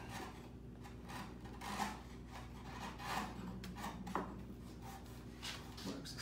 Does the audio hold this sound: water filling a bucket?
no